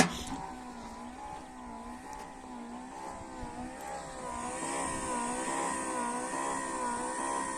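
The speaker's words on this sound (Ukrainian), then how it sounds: "Моторчик від скло підйомника крутить таку конструкцію актуатора і це все опускається." A small car window-lifter electric motor drives a homemade solar-tracker actuator, lowering an array of panels in manual mode; a steady, whining drone with a wavering pitch runs continuously and alone, rising slightly in the later part.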